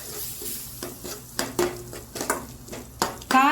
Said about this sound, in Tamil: ஸ்மெல் போகிற மாதிரி கொஞ்சம் வதக்கலாம்.